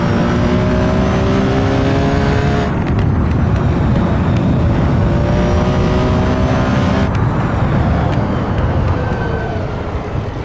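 A race car engine drones at the 1971 Daytona 24 Hours, a sustained loud, tonal roar with shifting pitch as the car passes under racing conditions.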